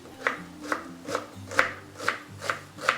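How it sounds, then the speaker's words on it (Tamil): Kitchen knife finely chopping onion on a board while preparing soya fried rice, seven evenly spaced crisp chops in a steady rhythm over low background hum, close and moderately loud. "ஸோ இதோட நம்ம வெங்காயம் கட் பண்ணிக்கலாம்."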